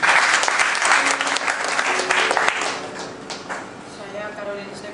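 Applause from guests at a church wedding ceremony, a full burst of clapping that thins out toward the end, with murmured voices and some music in the background.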